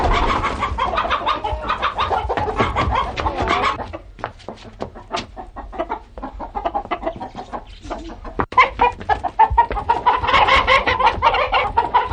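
Chickens cluck and squawk continuously nearby, busy overlapping calls with a louder burst toward the end and a sharp knock midway.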